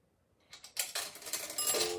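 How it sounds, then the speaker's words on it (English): Nickels drop into a Western Electric 233 ten-cent payphone, a quiet series of metallic clinks and rattles as the coin falls through the mechanism, close up and alone. "Put the first nickel in, no dial tone."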